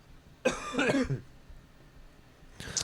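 A person coughs nearby, a rough cough followed after a pause by a second shorter one.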